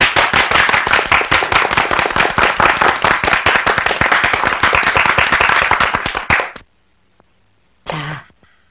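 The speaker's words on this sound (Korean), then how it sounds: "신준 동무에게 뜨거운 박수를 보내줍시다" A group of young people far from home give warm, rapid applause for a comrade's birthday, loud and close, dense clapping that stops abruptly, followed after a pause by a brief burst of sound.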